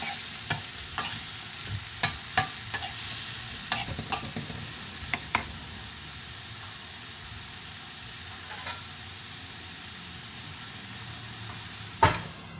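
Coconut milk being stirred into fried fish and chayote in a pan: a steady close simmering sizzle, broken by several sharp clicks of a spoon against the pan early on and once more near the end.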